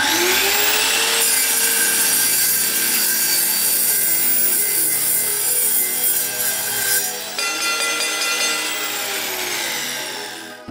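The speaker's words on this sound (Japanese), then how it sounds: "この角パイプ、溶接台の時に使った余りですね、これをカットしてみたいと思います。" Takagi EARTHMAN CS-100TA chip saw cutter slicing through leftover square steel pipe, a loud sustained high-pitched metallic screech over a motor whine for about ten seconds, shifting slightly in tone as the blade works through the metal.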